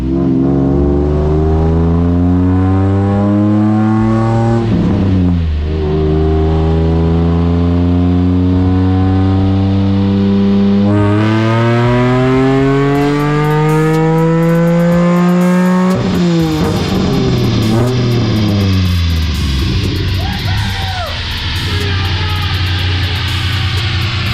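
A stock 3.2 liter Ford Taurus V6 on nitrous revs hard in repeated rising sweeps, each pull climbing in pitch before dropping back, loud and close with no talk over it.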